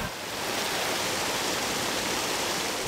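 Rushing water churns steadily through a traditional wooden whirlpool washing basin in Maramureș, a constant dense roar filling the whole stretch with no voices.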